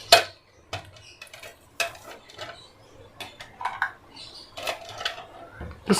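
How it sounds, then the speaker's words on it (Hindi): Ice cubes drop into a homemade all-natural iftar drink in a glass, a series of sharp clinks and rattles spaced irregularly over several seconds, close and fairly quiet. "अब कुछ बर्फ़ डालेंगे।"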